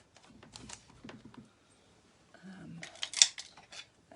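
Scissors cutting through foam adhesive sheets, several short crisp snipping and crunching strokes in quick bursts, close and fairly quiet, with a brief pause midway and a sharper click near the end.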